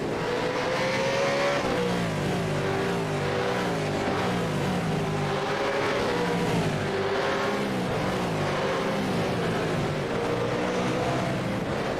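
V8 Supercars, Mustangs and Commodores, race through the Boot section at Watkins Glen in a sim racing game. Several engines overlap in a dense, continuous roar, with pitches rising and falling as the cars shift and jostle close together.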